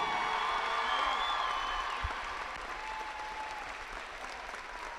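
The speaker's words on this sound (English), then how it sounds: "I know we're going to get a big applause here" A crowd applauds at a girls' regional championship basketball tournament, sustained clapping that starts loud and gradually thins out over several seconds.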